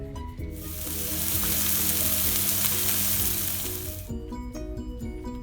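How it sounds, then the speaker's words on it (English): Loud, steady sizzling of lamb burgers frying in a hot pan, swelling to a dense hiss before settling back, with music playing underneath. "Now listen to that sizzle."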